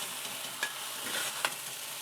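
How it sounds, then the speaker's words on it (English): Singapore noodles are tossed gently in a hot wok with a double wok spatula, a steady frying hiss broken by two soft scraping tosses. "Just give it a good gentle toss, not a hard toss."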